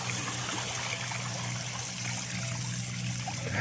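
Steady rushing and trickling of shallow stream water as a vehicle rides through a river crossing, a continuous close splash-and-flow wash with no talk.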